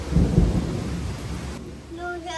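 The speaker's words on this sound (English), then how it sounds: "No, it's thunder." Deep, loud thunder rumbles during a heavy summer rainstorm, rolling low and fading, with steady rain hiss around it and faint voices near the end.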